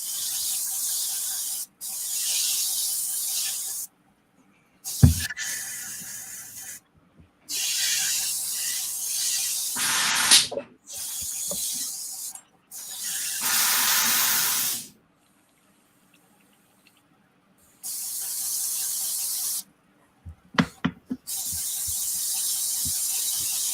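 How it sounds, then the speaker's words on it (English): An airbrush being cleaned out fires repeated loud bursts of hissing spray, each lasting a couple of seconds and separated by short pauses, close and alone with no talk. "let me clean my airbrush out"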